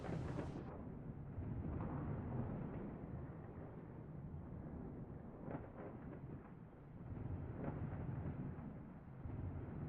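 A rolling thunderstorm from the video game Star Trek: Outposts Unknown fills the space with a dense, low rumble and a gusting, windy roar that swells and eases but never stops.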